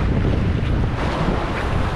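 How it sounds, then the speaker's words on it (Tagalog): Choppy sea surf at Caysubic Beach washing in as a steady, loud broadband roar, heavily buffeted by wind noise on the microphone, with no talking. "Ayan, medyo maganda yung dagat, maalon."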